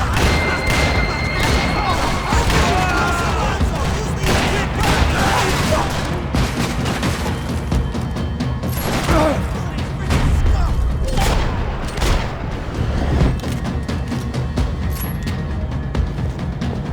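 Dense, continuous gunfire with booming explosions and crashes in the video game Max Payne 3, loud and chaotic throughout, with faint voices mixed into the din.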